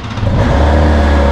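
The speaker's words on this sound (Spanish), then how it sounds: "escuchemos su motor a ver si es cierto que ruge más redondo que en su versión anterior" A 2020 BMW S1000XR motorcycle engine revs loudly and close in a brief, steady, smooth roar that holds strong throughout.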